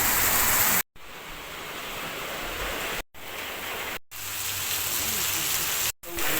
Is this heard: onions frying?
no